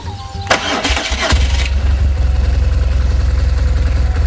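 A BMW motorcycle cranks with a loud, rattling starter burst for about a second, then catches and settles into a steady, throbbing low idle that continues evenly to the end.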